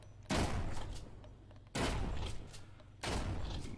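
Three loud, booming shotgun blasts in the VR zombie shooter Propagation VR, each followed by a decaying rumble, spaced roughly one to one and a half seconds apart.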